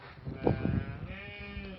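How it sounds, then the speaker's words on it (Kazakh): A sheep bleats nearby, a wavering quavering call, with other livestock sounds around it, while sheep are fed fish. "Қазақтың қойлары осындай балық жейді."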